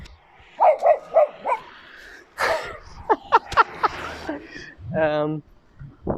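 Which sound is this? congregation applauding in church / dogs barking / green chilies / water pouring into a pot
dogs barking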